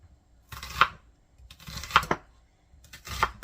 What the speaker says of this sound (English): I'm just going to slice them in half because I want them to be slices, not chunks